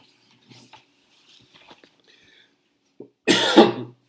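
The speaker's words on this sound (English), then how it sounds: "I'd like to redo that last little bit where I started coughing." Soft rustles and faint shuffling, then a loud, harsh coughing fit bursts out close by near the end.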